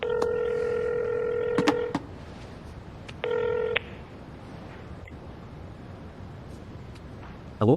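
A phone number dialed as a series of steady DTMF keypad tones, a long run of beeps, a pause, then a short second burst, clear and close, followed by quiet room tone.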